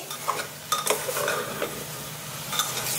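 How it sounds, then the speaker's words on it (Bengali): Vegetable and lentil curry being sautéed in a pan, with a spoon scraping and stirring in irregular strokes over a soft continuous sizzle, close and moderately loud. "এখন এই যে একটু কষাই নিছি"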